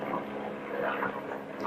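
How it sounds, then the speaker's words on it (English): A helicopter or other aircraft passes overhead as a broad, steady rumbling drone with a faint low tone, moderately quiet and sustained, with no voices. "I think that's a helicopter."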